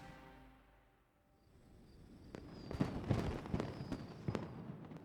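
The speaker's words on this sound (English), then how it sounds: "The fireworks have started." Fireworks go off in Genshin Impact as a quiet, distant run of crackling pops and bursts that builds over the second half, with no talking.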